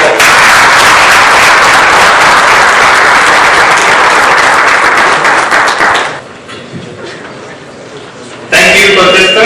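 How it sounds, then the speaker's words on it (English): Audience claps loudly and steadily for contestants at a Toastmasters speech contest, a dense sustained ovation that fades after about six seconds, followed by a quieter room and then a voice speaking. "Please give them a big round of applause."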